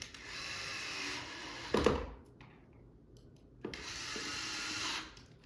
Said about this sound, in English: I'm just using a drill. It's a little quicker.